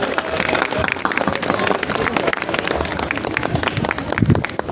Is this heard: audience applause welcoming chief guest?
yes